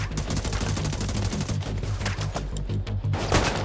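Rapid automatic gunfire in a tactical shooter set in a war-torn Washington, D.C., a steady stream of loud close shots overlapping with distant bursts, with no voices.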